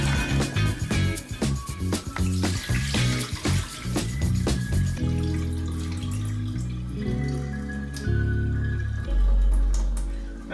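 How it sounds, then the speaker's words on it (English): Rice being rinsed in a kitchen under a running tap, water pouring and splashing steadily with scattered clinks and sloshes in the first half, then a smoother continuous flow until it stops. "And there you go, your rice is washed."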